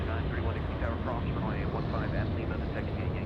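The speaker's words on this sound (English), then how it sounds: "up next, KC-135" A KC-135 military aircraft flies at Anchorage airport as a steady broadband engine roar, with a person talking continuously over it.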